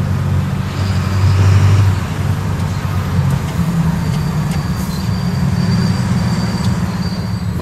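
Old S-Bahn commuter train crossing bridges in a German city, a loud, steady rumble of wheels on track with a brief squeal, heard nearby and continuous throughout.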